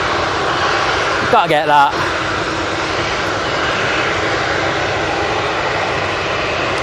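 A Cathay Pacific jet airliner taxiing out at Manchester Airport, its engines giving a constant whining hum and rush throughout while a person speaks briefly over it near the start.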